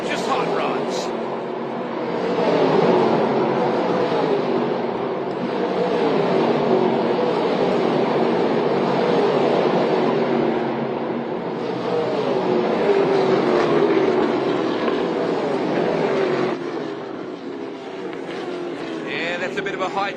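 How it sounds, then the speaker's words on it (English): Hot rod race cars roar around Sydney Motorsport Park, a dense, loud, continuous engine drone that swells and fades as cars pass, with no talk over it. "Have a listen to these gorgeous hot rods"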